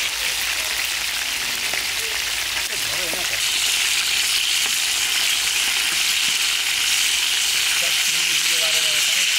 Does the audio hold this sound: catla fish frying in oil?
yes